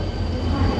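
Heavy rail rumble with a steady low roar and faint squealing wheels, a Honam Line train departing Yongsan station close by, with no voices.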